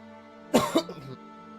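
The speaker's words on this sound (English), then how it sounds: "I thought I muted myself when I coughed." A man coughs into a microphone, two quick close coughs followed by a softer throat-clearing rumble, over faint steady background hum.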